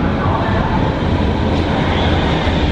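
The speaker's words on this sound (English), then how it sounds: "I am now going to attempt to take the U-Bahn train to the hostel" A Berlin U-Bahn subway train in motion, heard from inside as a loud, steady roar of wheels and motor that fills the whole stretch.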